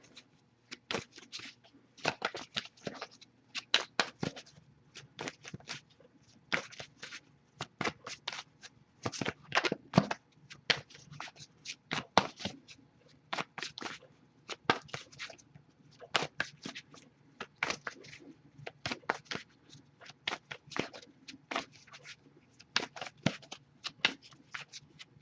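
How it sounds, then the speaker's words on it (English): Tarot cards are shuffled over and over, a quiet, rapid riffling and flicking that comes in uneven bursts for a long stretch. "let me just keep shuffling"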